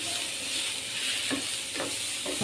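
Green chilies are stirred and sautéed in a pan for a Kerala okra stir-fry, making a soft, constant sizzle with a few rhythmic spatula scrapes and no talking.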